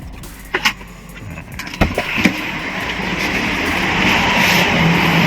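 Mercedes-Benz SLK200 R172 engine running after a remote start, a steady idle hum that grows slightly louder, preceded by a few sharp clicks and knocks near the car.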